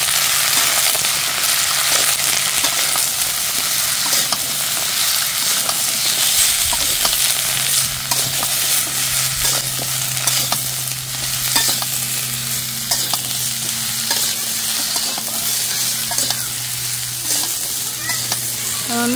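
Vegetables fry with five-spice, green chili and turmeric, giving a steady loud sizzle as a utensil stirs and scrapes through the pan for about twenty seconds.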